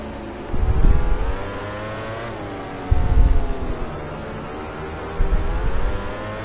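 A CRT-class satellite racing motorcycle in MotoGP 13 at the Brno circuit, its engine droning steadily with three loud revving surges as it accelerates, alone with no talking.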